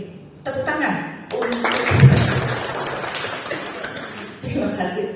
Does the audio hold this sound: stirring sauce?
no